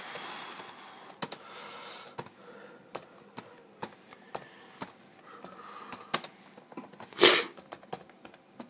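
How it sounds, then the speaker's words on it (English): Name typed on a Compaq Armada 1592DT laptop keyboard: a series of close, sharp key clicks in an uneven rhythm, with one louder burst of noise partway through. "Okay, yeah, I'll type my name in."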